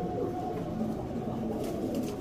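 Low pigeon cooing murmurs continuously through the short stretch, soft and steady, with no talking.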